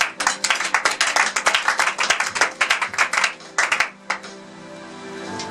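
A church congregation claps in a quick, steady rhythm to acclaim Jesus, many hands close and lively, the clapping thinning out and stopping near the end with no talking.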